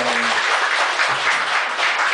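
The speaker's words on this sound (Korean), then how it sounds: "박수 한번 보내주세요." Members of a Buddhist class applaud a team leader, a thick, steady round of clapping from a full room that stays loud from start to finish.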